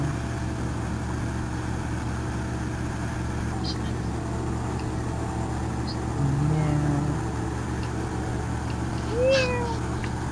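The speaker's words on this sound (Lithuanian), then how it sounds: "Ko ten miauksi?" A cat meows faintly a couple of times, short and far, over a steady low engine-like hum from a Farming Simulator 15 game running in the background.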